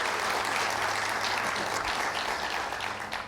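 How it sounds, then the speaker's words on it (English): A studio audience on a live show applauds steadily, a dense wash of clapping that carries on unbroken and alone before fading slightly at the end. "Round of applause."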